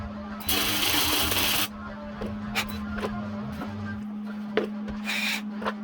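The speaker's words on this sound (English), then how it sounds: "I'm going to weld it a bit low" Aluminum being welded with a Miller spool gun over a crack, a steady sizzling arc running in two bursts with a constant hum beneath and scattered clicks between them.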